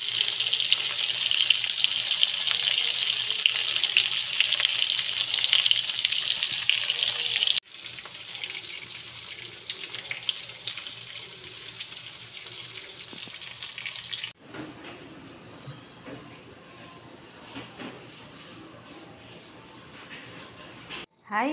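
Breaded pork fries over a low flame, a steady bright sizzle that drops in level at two sudden cuts and ends much quieter, with no voices.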